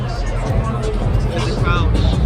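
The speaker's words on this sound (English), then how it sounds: "There's the crowd." Crowd hubbub fills a boxing arena in Las Vegas at a Devin Haney versus JoJo Diaz fight, a steady dense babble of many voices with low rumble throughout, no single voice standing out.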